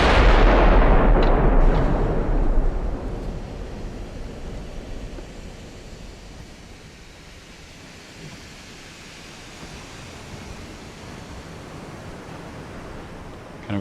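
Warship rear guns fire in the naval game Ultimate Admiral: Dreadnoughts, opening with a heavy close boom that rolls off into a long fading rumble and low sea-like wash.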